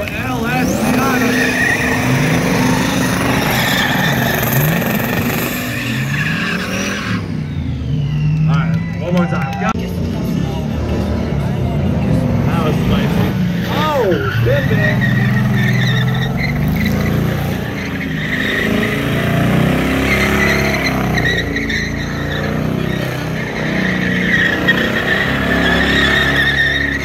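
A twin-turbo LS-engined car does a burnout at a Cleetus and Cars burnout contest, its engine roaring and revving hard over a loud, continuous crowd and announcer din.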